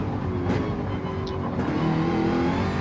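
A Gr3 race car in Gran Turismo 7 at Mount Panorama powers out of a corner, its engine note rising steadily and loudly throughout, close and continuous with no pauses.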